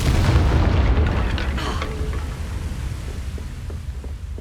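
A Confringo blasting curse explosion in Hogwarts Legacy, a heavy booming blast that rolls and decays over several seconds with low rumble, loud and close.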